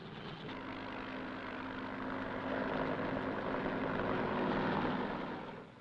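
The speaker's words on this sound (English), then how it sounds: "Fleets of helicopters lift men and artillery into the hills surrounding the base." A steady mechanical drone of military helicopter rotors and engines at Khe Sanh, swelling slightly louder in the middle before easing off, with no voices.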